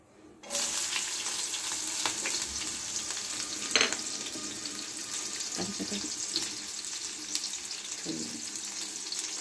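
Green chillies dropped into hot oil for tempering with black cumin, a sudden sizzle bursting in after a brief quiet, then a steady hiss with occasional stirring clatters, close up.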